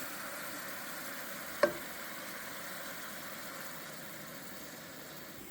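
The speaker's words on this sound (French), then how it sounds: "Les pommes sont revenues un petit peu dans la poêle, là, avec le beurre et l'huile." Apples in butter and oil with maple syrup and red beer simmer in a pan, a steady soft sizzle throughout, broken by one brief sharp clink.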